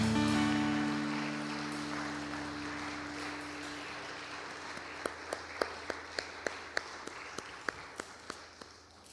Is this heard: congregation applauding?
yes